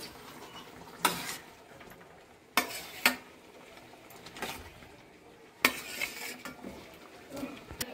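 Katla fish pieces dropped into fried masala in a pan, with several sharp clinks and clatters of utensils against the pan over a soft, low sizzle, spaced irregularly and close by.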